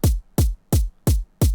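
Five layered electronic kicks, each pairing a deep synthesized thump with a crisp hi-hat transient and a thin noise layer, struck at a steady even pulse with nothing else playing.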